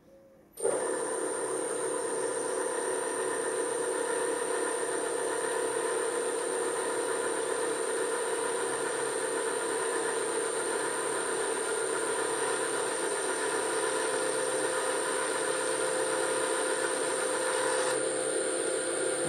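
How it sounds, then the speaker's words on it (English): Automatic boring and facing head turning on a machine with its feed engaged, a steady mechanical hum with a high whine starting abruptly and running evenly; a faint tonal shift near the end as the feed lets go. "Okay, you can hear the sound change as the feed disengaged."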